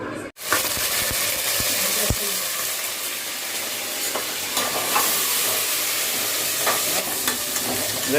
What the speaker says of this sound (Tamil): இப்போ தாளிக்கணும்.